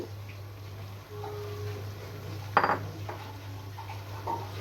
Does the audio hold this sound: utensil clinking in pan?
yes